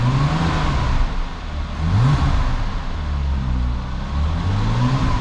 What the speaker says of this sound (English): so we'll give it a little rev up to 3000.